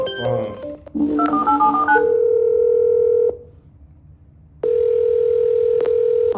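Telephone tones during a call to a homeowner: a quick run of stepped dialing beeps, then two long steady call-progress tones separated by a short pause, loud and clean with no talking.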